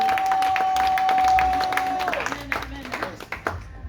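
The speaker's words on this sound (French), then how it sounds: "On acclame la parole de Dieu." Church congregation applauding together at a French-language service, a broad wash of clapping and crowd noise that swells and then thins toward the end, with a steady tone fading out partway through.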